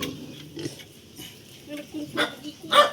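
A pig at a farm grunting and oinking in a few short, close bursts, with quiet gaps between them and a voice briefly talking nearby.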